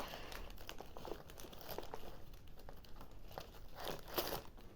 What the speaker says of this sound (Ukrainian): треба ось тут порвати, щоб його дістати